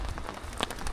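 Light rain pattering steadily on a surface during a typhoon, a soft continuous patter of drops with no voices.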